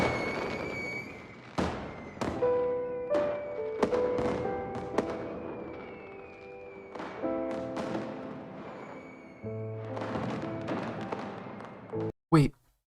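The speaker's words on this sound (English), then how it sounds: "The night sky was suddenly lit up by the stashed fireworks." Fireworks burst in the night sky in the video game Honkai Impact 3rd, a series of separate thumping bangs with crackling tails spread over several seconds, then a final sharp pop.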